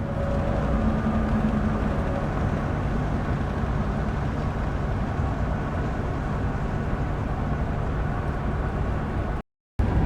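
Steady broadband road and tire roar from an HD GMC Sierra with all-terrain tires cruising at about 64 mph, heard from inside the cab, loud and constant with no talk, cut by a brief dropout near the end.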